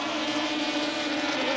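A high-revving engine whines steadily at a distance, a continuous buzzing drone of highly tuned East German racing motorboats turning about 10,000 rpm out on the water during a 1980s race.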